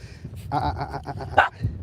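A few short, close dog barks and yips in quick succession, with a sharper bark near the end.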